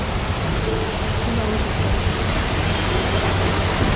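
Steady, dense rain pours without a break, a constant broadband wash with no pauses or changes in strength.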